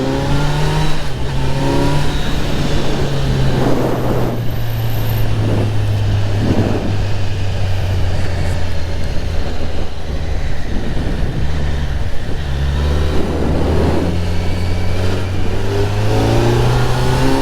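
A Kawasaki Z900 motorcycle pulls hard to overtake, its engine revving up and down through gears, loud and close, with a smooth sustained drone and repeated surges of acceleration.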